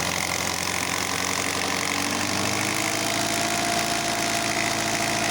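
Alfa Romeo 156 Twin Spark petrol engine idling badly, a steady close mechanical rumble with uneven low throb and faint knocking running throughout, with no voices.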